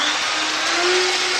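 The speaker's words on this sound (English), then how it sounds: "a completely normal drill." Ordinary electric drill running on 220 volts, a steady high-pitched motor whine held evenly for a moment, close and alone.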